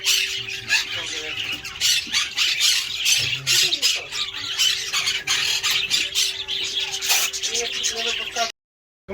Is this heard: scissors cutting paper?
no